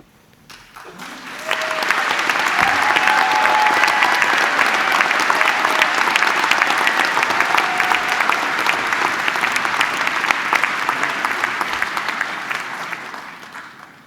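Graduation audience at a university ceremony bursting into loud, sustained applause that swells quickly, holds dense and even for about ten seconds, then tapers off.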